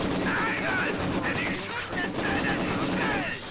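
Maxim machine guns trading fire head to head in the strategy game Company of Heroes, a dense, steady rattle of automatic bursts over the battlefield din, with a voice talking over it.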